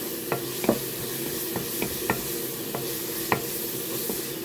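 Giant squid adobo sizzles in a pan, a steady frying hiss punctuated by a handful of sharp, irregular pops and utensil taps, fairly close and with no talking.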